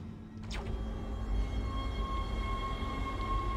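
A steady rumbling hum of a tram moving along in the video game Dead Space, with a brief metallic squeal near the start and a faint tonal whine throughout.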